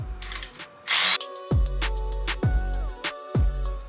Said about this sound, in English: Insert it, try to thread it in by hand, and then tighten it down with your 6 millimeter hex head.